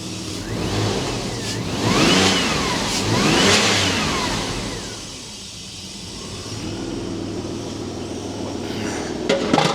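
Porsche Boxster 986 engine revved close by, with a few strong blips rising and falling, a quieter settle toward idle, then a steady running hum, with no voices.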